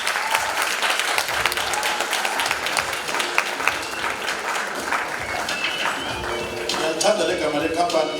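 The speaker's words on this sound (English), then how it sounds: "Give them a huge round of applause." A large audience at the 2022 KZN Youth Business Awards ceremony gives sustained, dense applause that stays steady throughout, with crowd voices mixed into the clapping.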